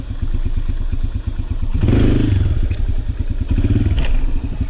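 A motorcycle engine revs and pops as a rider lifts the front wheel in a wheelie, then the rear brake drops it back down. A loud, close, pulsing exhaust note carries a surge near the middle and a brief clatter.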